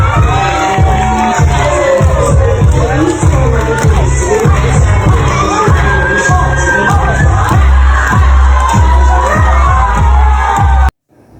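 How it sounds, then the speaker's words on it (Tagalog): A studio audience claps rhythmically and cheers loudly for Marian Rivera's dance on a TV show, with steady beat-like claps, shouts and whoops throughout before cutting off abruptly near the end. "maraming pumapalakpak at nag-cheer sa kanya"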